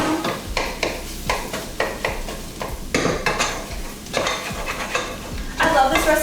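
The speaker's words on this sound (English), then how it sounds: "So the fat from the sausage is gonna melt the flour down." Sausage fat and flour sizzling in a pan while being stirred, a steady close frying hiss broken by repeated scraping strokes of a utensil against the pan in an uneven rhythm.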